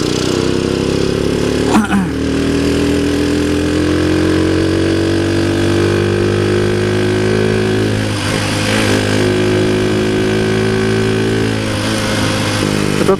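Rusi Gamma 200 motorcycle engine running steadily up close, a loud continuous hum whose pitch climbs gently as it revs, with a couple of brief bumps and no talking.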